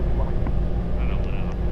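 A giant seaplane's engine drones steadily in flight, a constant, loud low rumble filling the cabin with no pause, with faint higher tones drifting over it.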